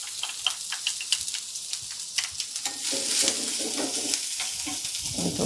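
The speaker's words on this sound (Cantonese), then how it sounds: "嗱，安啲芝麻油， 跟住放葱頭仔先" Shallots sizzling in sesame oil in a claypot, a steady crackling fry that thickens midway, with scattered clicks of stirring over it and no voices.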